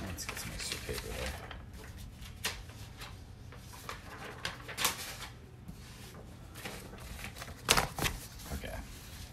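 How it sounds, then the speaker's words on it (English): Sheets of paper are shuffled and slid into place beneath a practice page, giving close, crisp rustles and soft thumps in irregular bursts over a steady background. "Let's get some extra paper there."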